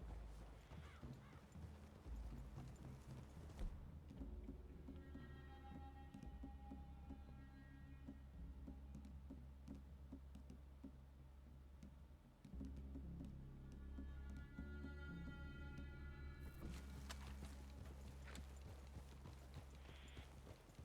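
Hooves clip-clop steadily on the ground as horses walk along in Red Dead, with a low background hum and occasional soft clatter.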